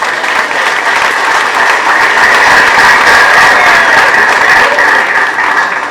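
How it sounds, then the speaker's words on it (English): Loud, sustained applause from a large audience at a political party launch event, dense and even for the whole stretch with faint crowd noise underneath. "He deserves a big clap."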